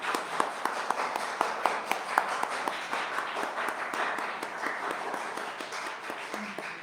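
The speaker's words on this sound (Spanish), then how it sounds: "Aplausos al hermano Javier, ¿eh?" A small church congregation claps, a brisk run of distinct handclaps that thins out over several seconds, moderately close with no talking.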